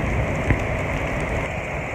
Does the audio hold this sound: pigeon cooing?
no